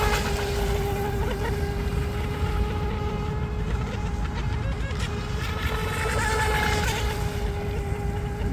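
A small RC boat with a 2600 kV motor runs at full throttle on water, a steady, high-pitched electric whine that holds constant throughout, loud and unbroken.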